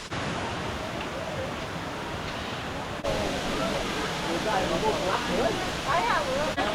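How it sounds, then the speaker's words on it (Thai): The third tier of Erawan Falls in Thailand gives off a continuous rushing roar of falling water, growing slightly louder midway, while someone talks over it in the later part. "ตอนนี้เราถึงน้ำตกชั้นที่สามกัน"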